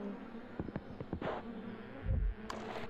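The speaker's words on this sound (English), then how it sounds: "Ah, shit, the bees." Bees buzz in the Escape Academy video game, a faint insect drone with a few soft clicks and thuds in the game's background.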